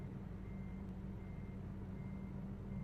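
A Volvo VNL 670 semi truck reverses its trailer in American Truck Simulator, with a steady, faint high reversing beep running over a constant low diesel engine rumble.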